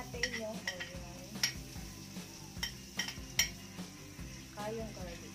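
Onion fries in a pan while metal utensils clink and scrape against it, with a faint sizzle beneath intermittent stirring knocks, close and moderately quiet.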